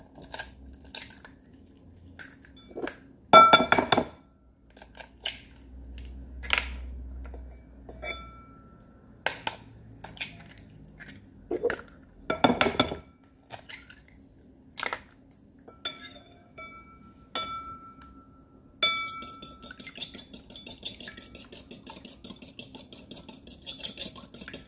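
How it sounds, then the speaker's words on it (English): Four eggs whisked in a bowl with a fork or spoon for a mushroom omelette: a string of sharp clinks and taps against the bowl, some loud and bunched, others lighter and scattered, with no talking. "We beat this 4 eggs"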